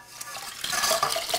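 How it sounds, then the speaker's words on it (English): Three cups of water pour into a hot pot set to its highest heat setting, a steady close splashing stream that builds and holds, with no talking. "I am adding 3 cups water"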